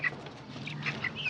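Hens at a market cluck in short squawks over a low background hum and murmur, several calls close together across a brief moment.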